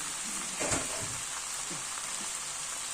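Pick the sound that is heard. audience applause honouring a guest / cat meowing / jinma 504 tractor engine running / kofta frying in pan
kofta frying in pan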